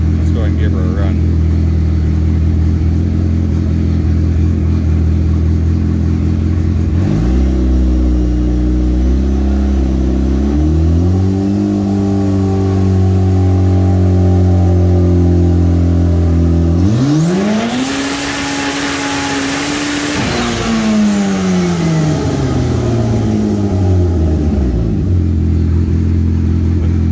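A turbocharged Polaris RZR Pro R side-by-side accelerates hard, its engine loud and close, climbing through rising revs with shifts, then surging again with a whooshing turbo rush before easing off.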